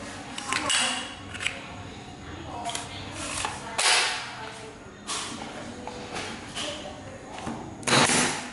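A Japanese pneumatic nail gun fires nails in a series of sharp, fairly quiet pops with air hiss, spaced unevenly over several seconds against light handling noise.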